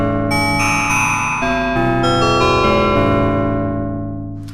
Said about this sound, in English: Oh, we've got FM bells.